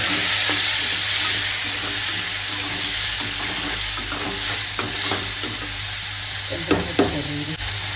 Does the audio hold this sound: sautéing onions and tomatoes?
yes